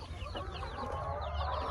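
Backyard hens clucking nearby indoors, a run of soft, overlapping clucks and murmurs that lasts throughout.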